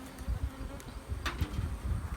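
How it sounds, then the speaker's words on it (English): Honey bees hum and buzz around a beehive, guard bees near the entrance, with a steady close drone and a few louder passes of individual bees. "These are the guard bees."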